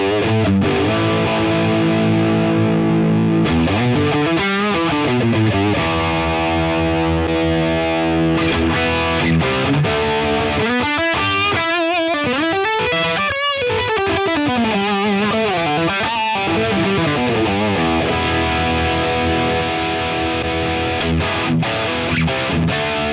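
Heavily distorted thrash metal guitar through a Line 6 Metallurgy amp with the Fat mod engaged, playing a continuous loud riff of sustained chords and fast chugging, sliding passages.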